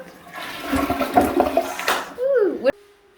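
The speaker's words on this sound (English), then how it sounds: "let's watch the flushing of the toilet" A toilet flushes in a newly built house, close and loud: a rushing swirl of water with a few knocks and faint voice-like sounds, ending in a rising gurgle that cuts off sharply into a quiet hiss.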